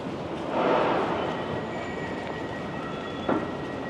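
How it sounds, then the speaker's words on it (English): A Sydney light rail tram heading toward Circular Quay passing in a busy city street, a rolling rumble that swells then fades, with thin wheel squeal tones and a sharp clack near the end. "So this train that we're looking at does go down to the Circular Quay area"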